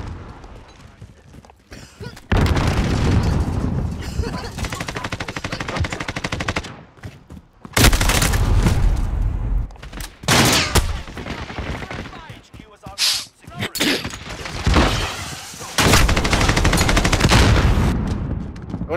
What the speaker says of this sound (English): He's just shooting me straight through the fucking wall